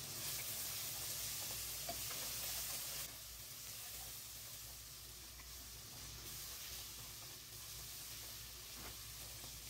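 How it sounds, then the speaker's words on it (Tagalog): Meat being stirred in a hot cooking pan, a steady close sizzle and hiss with soft scraping, loud at first and then slightly quieter, with no voices. "And then, ilagay natin ang ating karne. So, ayan, imikos-mikos ulit natin."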